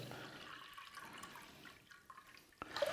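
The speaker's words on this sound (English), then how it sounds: "we're just going to put in some water" Water poured into a low dish for a cabbage flower arrangement, a faint steady trickle and splash running throughout, alone and fairly quiet.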